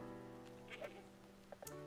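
A goat in a video game gives a few faint, short bleats over a quiet game soundtrack.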